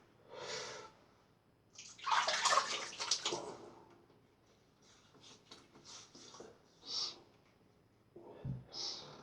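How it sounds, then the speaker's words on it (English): A straight razor gets a quick rinse under running water during a shave, with bursts of splashing and trickling at close range, broken by short pauses and soft breathing sounds. "I will give it just a quick rinse there."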